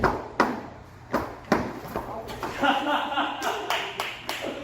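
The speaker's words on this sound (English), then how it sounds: "Just keep clapping." Students clap a steady rhythm alongside wooden sticks striking for a traditional stick-fighting dance, sharp near claps repeating over a busy room, with people talking throughout.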